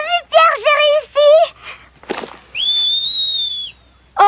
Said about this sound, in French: Je sais siffler, youpi.